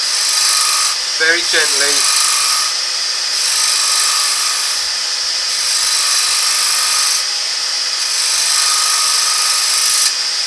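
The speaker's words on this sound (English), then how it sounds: "So with the flute very closed, we can just scrape that" A bowl gouge, flute held nearly closed, scrapes the inside of a small wooden bowl spinning on a lathe, giving a steady close whir and rasp throughout, with a brief spoken remark partway.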